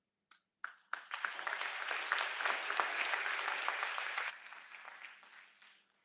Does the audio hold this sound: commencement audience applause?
yes